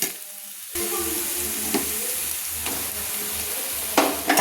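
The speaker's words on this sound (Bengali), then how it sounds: "আলু মাখাটা আমি দিয়ে দিচ্ছি।" Mashed potato goes into a pan of frying onions and green chillies, starting with a sudden burst of loud sizzling that settles into a steady fry, with a few scraping stirs on top.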